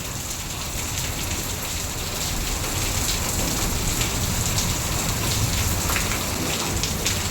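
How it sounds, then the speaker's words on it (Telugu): Heavy rain pours down steadily, a dense close hiss of drops on surfaces that thickens after the first second and continues without any voices. "వర్షం గట్టిగా పడుతుంది"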